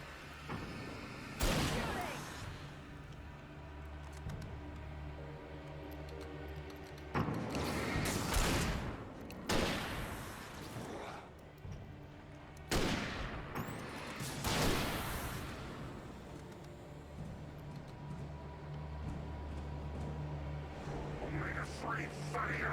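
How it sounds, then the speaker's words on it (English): Gunshots in the video game Alan Wake ring out as a few loud, booming blasts at irregular intervals, separated by quieter stretches of low ambient rumble. "I'm shooting blind here."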